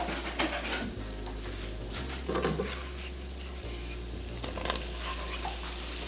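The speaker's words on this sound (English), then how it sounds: "Now, since that's nice and bubbly, I'm going to add in a half a cup of flour too." Flour is stirred into melted, bubbling butter for a roux in a Southern-style baked macaroni and cheese, giving a soft steady sizzle with faint scraping and stirring sounds close by, no voices.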